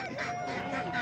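Geese at a poultry market in Sungurlu, Çorum, honking in a brief, close burst of nasal calls.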